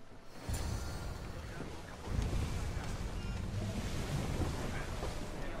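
A sailing ship cuts across open ocean in Assassin's Creed Odyssey, a steady rushing of wind and water that swells louder after a couple of seconds and carries on without a break.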